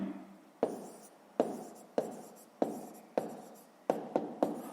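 A pen writes by hand on paper during a sixth-grade math exercise, producing about nine sharp taps, each followed by a short scratching stroke, close and fairly quiet.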